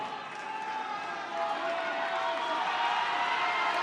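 Rugby stadium crowd at a women's Six Nations match between Ireland and France, a dense steady roar of cheering that swells midway and stays loud, with a commentator's voice running over it.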